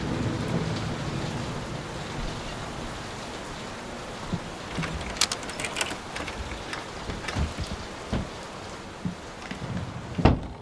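Heavy rain pours steadily in a thunderstorm in the horror game Layers of Fear, with sharp cracks and thumps of thunder breaking through in the second half, no voices.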